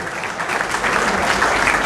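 Steady, dense applause from an audience welcoming Rambaksh Verma at a gathering at Ambedkar Bhavan in Delhi, a continuous wash of many hands clapping that grows slightly fuller partway through.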